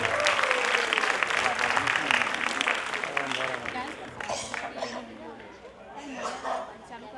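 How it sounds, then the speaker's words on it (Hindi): A crowd at a dance academy's annual function applauds the evening's special guest. Loud, dense clapping mixes with chatter and shouts, swelling at first and then easing off, with voices carrying over it throughout. "जोरदार तालियां हो जाए प्लीज"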